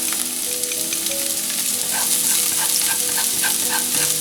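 Onion and garlic fry in a pan for a tomato seafood pasta, a steady close sizzle with light scraping and stirring taps running throughout, no talking.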